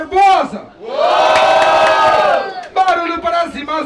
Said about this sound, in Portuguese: Barulho para as rimas de Barbosa